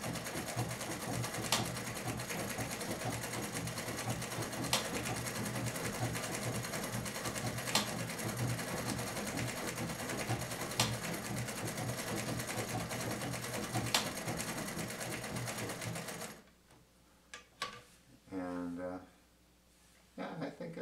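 A vintage Bel Air sewing machine runs with a steady, close mechanical whir and rhythmic ticking for about sixteen seconds, then stops, leaving brief soft handling noises and a voice.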